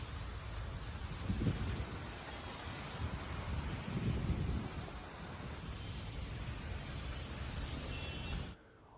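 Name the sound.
heavy rain and thunder in Gurugram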